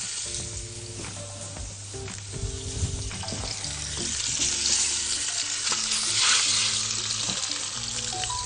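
Chicken pieces frying in a pot for chicken kabsa give a steady close sizzle with bursts of crackle and spatter, under a droning low hum throughout.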